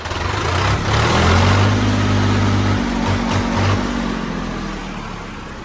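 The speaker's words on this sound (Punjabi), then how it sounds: "ਆਵਾਜ਼ ਬੂਈ ਪੂਰੀ ਸਾਫ ਸੁਥਰੀ ਟਰੈਕਟਰ ਦੀ ਐਨ ਵਧੀਆ ਹੈ" A 2004 Swaraj 855 tractor engine rumbles steadily up close, a low idling drone that dips and sputters briefly before fading slightly toward the end.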